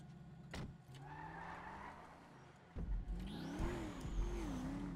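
A car in GTA RP revs and accelerates with rising engine pitch and a short tire squeal, fairly faint under game ambience with no talk.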